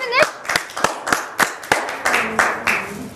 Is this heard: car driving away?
no